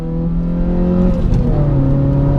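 A Suzuki Swift Sport engine revs steadily while driving, its note climbing slowly and evenly under sustained throttle, loud and close from inside the car with no talking.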